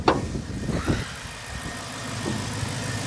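A BMW Z4 coupe with 88,000 miles idles warm, heard from underneath the car as a steady, fairly loud mid-pitched engine hum with a few sharper knocks or clunks at the start.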